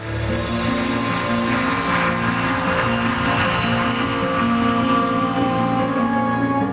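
A B-2 stealth bomber drones steadily and loudly in flight, a sustained engine roar with a throbbing hum that holds through the whole stretch.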